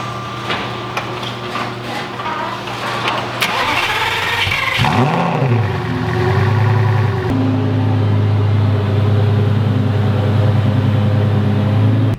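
A Porsche GT3 RS engine starts with a sharp whine and bark, then settles into a loud, steady idle nearby.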